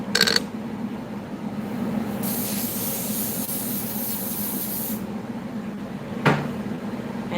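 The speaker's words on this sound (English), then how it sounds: "we're going to spray a little bit of this onto the lace" A sharp click, then a long steady spray of liquid onto wig lace hisses for about three seconds, followed by another click and quiet background.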